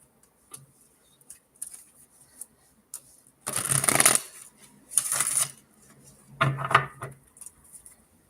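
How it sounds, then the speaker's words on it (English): Cards being shuffled, three quick riffling bursts separated by pauses, with small taps and clicks in between, close and fairly quiet. "let me shuffle this deck"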